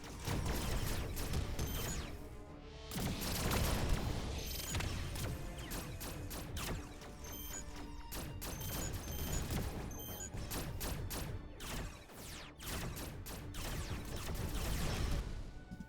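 Sustained barrage of weapons fire in the space strategy game Stellar Sovereigns, dense overlapping blasts and crashes that keep up loud and continuous for the whole stretch with no talk.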